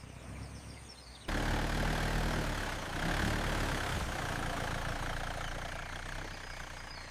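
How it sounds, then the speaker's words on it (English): A car engine running with a knocking fault, a loud, steady mechanical rumble that starts abruptly and continues close by, with no talk over it. "The engine is knocking."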